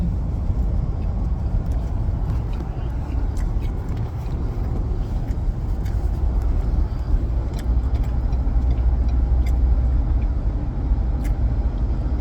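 Steady road rumble from inside a moving car, a continuous low drone with faint ticks and clicks over it and no talking.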